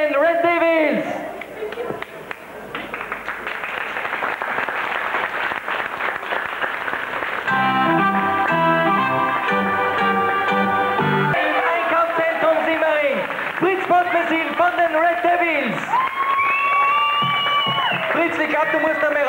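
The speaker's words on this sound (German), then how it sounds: "da ist so viel Applaus für dich" An audience at a 1997 German stage game show applauds a performer, sustained clapping and cheering from the crowd running under music and a presenter's voice throughout.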